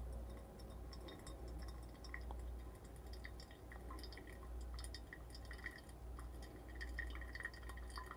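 Water poured over coffee grounds in a pour-over brewer drips through, making faint, scattered soft drips over a steady low hum, with no talking.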